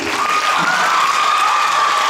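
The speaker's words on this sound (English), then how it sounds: "Let's give them a round of applause once again." Audience applause at a girls' Shakespeare competition final awards ceremony, a steady wash of clapping with some cheering that fills the whole stretch at an even level.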